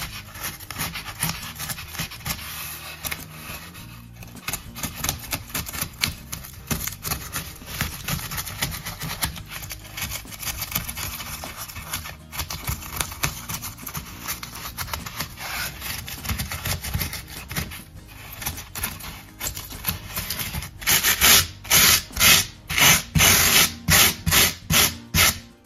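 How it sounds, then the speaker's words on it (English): A knife cuts and carves along a fault line in a foam rock, giving a steady close rubbing and rasping scrape throughout that turns into a run of louder, rhythmic strokes near the end. "get in there with your knife and just start kind of cutting along that fault line that you made"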